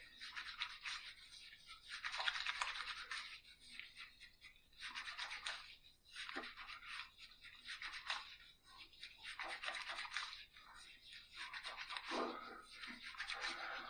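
Shaving with a Yaqi Tile razor head on a bolt handle, soft, close scratchy strokes in repeated bursts with brief pauses between passes, and no talking.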